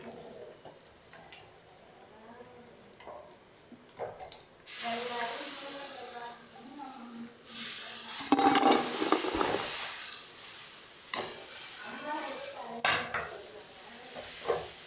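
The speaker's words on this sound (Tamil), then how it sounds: "அடுத்ததையும் போட்டு பொரிச்சிக்கலாம்." Small hand-rolled chana dal balls, a crispy side dish for tomato rice, fry in fresh, foaming oil with a steady hiss and sizzle, while utensils clink and stir against the pan and a voice talks.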